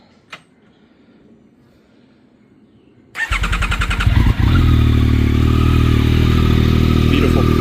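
A Yamaha R9 motorcycle, freshly fitted with a new ECU, cranks briefly after a few seconds of near quiet, then catches and settles into a loud, close, steady idle.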